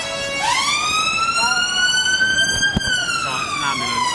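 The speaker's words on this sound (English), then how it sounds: "It's an ambulance, yeah, exactly." An ambulance siren wails loud and close, its tone sweeping up then holding in a long sustained note, with faint voices underneath.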